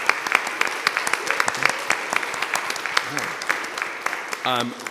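Scattered audience clapping at an annual meeting, with individual claps distinct and uneven against a thin crowd murmur, and a voice briefly speaking near the end.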